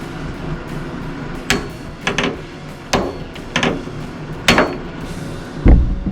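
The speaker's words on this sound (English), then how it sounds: "So I got one of those little impacting screwdrivers." A hammer strikes an impact screwdriver on stripped Phillips screws during the teardown of a 1970 Jeep CJ5, producing several sharp, loud metallic blows spaced irregularly over a steady background hiss.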